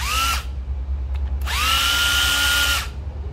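A used Japanese cordless drill with a 13 mm chuck and a clutch ring spins up twice, a short whine, a pause, then a longer rising high-pitched run, close and loud over a low background hum.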